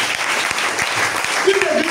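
A church congregation applauds for Jesus during a sermon, sustained dense clapping with scattered louder claps and a voice briefly rising over the crowd near the end.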